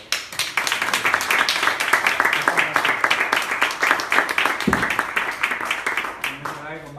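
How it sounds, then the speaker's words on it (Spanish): An audience at a library lecture on Roman gladiators claps along in a rhythmic, evenly spaced beat, fairly close and lively, with a voice briefly heard near the end. "Bueno, pues un aplauso."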